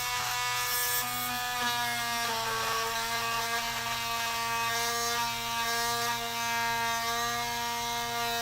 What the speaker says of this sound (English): need to drill in through the other end, because this is the end that we're going to drive the screw through.